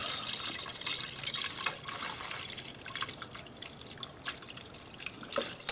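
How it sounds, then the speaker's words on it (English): Coolant poured without a funnel into a Volvo 850 engine, a soft continuous trickle and splatter with scattered drips, close and fairly quiet. "Add some coolant in here and we should be good to go."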